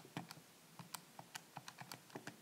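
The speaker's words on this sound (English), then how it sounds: "I'm typing this in my calculator." Quiet plastic keys on a calculator are pressed in a quick, steady series of soft clicks, about a dozen taps close to the listener with no speech.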